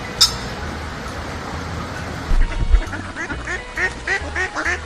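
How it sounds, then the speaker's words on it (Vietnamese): A Muscovy duck quacks in a quick run of repeated calls that grow toward the end, heard over a noisy backdrop and a rhythmic music beat. "Con ngan."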